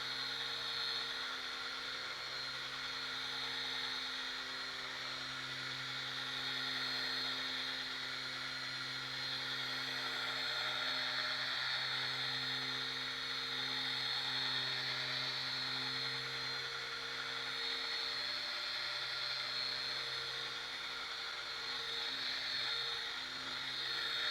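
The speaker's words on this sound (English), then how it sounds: "the gearbox whine isn't as annoying as some of these geared sanders" A Bosch GET 55-125 direct-drive random orbital sander runs steadily on a board. Its high gearbox whine holds constant and fairly loud throughout, with no talking.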